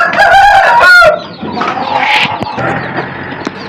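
Chickens cluck loudly up close, with a rooster-like crowing burst at the start followed by scattered clucks and squawks.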